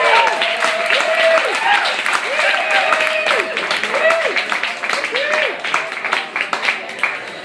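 Audience applause at a TEDx ABQ event as a speaker is welcomed to the stage, a continuous spread of clapping with a voice talking over it.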